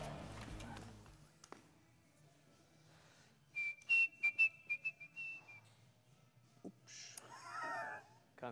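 A person whistles a short, wavering tune of several quick notes in a workshop or garage setting, with a muffled voice and background noise before and after.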